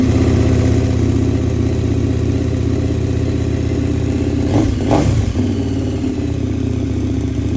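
A KTM 1290 motorcycle idles steadily after being powered on, a loud, close, continuous engine rumble with a brief rise in revs near the end.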